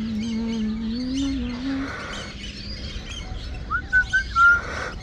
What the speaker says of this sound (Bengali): পানকৌড়ি শালিক সব একসাথে অনেকগুলা পাখি দেখছো